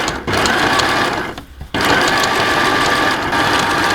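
A sewing machine runs loud and close, stitching back and forth over a zipper seam. A fast, steady mechanical whir is cut by a short pause in the middle before it starts again.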